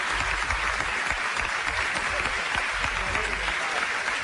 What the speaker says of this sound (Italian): l'applauso a Roberto Baggio